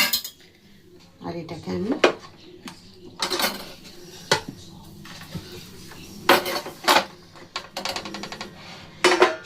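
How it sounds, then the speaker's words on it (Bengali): Clinks and scrapes of metal as milk cake is lifted out of a metal tiffin box in a home kitchen, coming in several clustered bursts with a voice talking between them. "দেখুন বের করে নিলাম টিফিন কৌটো থেকে"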